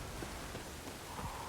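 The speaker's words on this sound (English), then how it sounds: "That rain again." Steady rain falls in The Witcher, a continuous even patter with a few slightly heavier drops, heard alone without voices.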